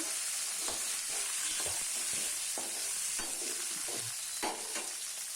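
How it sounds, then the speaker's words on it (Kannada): Chopped onions with curry leaves sautéing in hot oil, a steady bright sizzle broken by regular scraping stirs of a spoon against the pan, close and continuous. "ಹೆಚ್ಚಿ ತೊಳೆದಂತಹ ಈರುಳ್ಳಿಯನ್ನು ಹಾಕಬೇಕು ಈರುಳ್ಳಿ ಬ್ರೌನ್ ಕಲರ್ ಬರೋವರೆಗೂ ಬಾಡಿಸಿಕೊಳ್ಳಬೇಕು"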